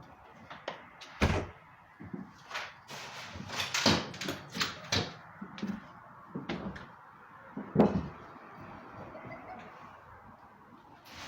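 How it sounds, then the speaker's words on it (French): A door is shut inside a house during a ghost-hunting visit in Montreal. Several sharp knocks, thuds and a clunking close sound at close range over about eleven seconds, with quiet gaps between them. "Je vais fermer la porte."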